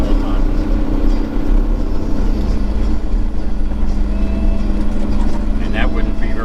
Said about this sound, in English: that truck, you'll hear how loud that truck is